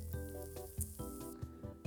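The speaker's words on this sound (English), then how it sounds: "sizzling bacon" Bacon sizzling on a hot clothes iron set to max temperature, a close crackling fry with sharp pops and spits recurring through the quiet.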